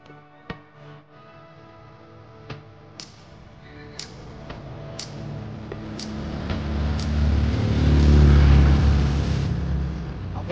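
Neighbours' vehicles revving their engines during practice, a rumble that swells from faint to loud and peaks near the end, with scattered sharp clicks and ticks early on and no one speaking.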